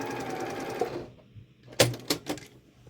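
A sewing machine chain-pieces quilt blocks, running in a steady whirring stitch that stops, then gives a few short, sharp bursts.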